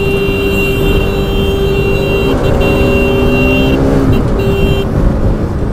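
Vehicles roar past in a street race with motorcycles and cars on a road during a motovlog, loud engine drone and rushing wind noise with tonal engine whines rising and falling close by.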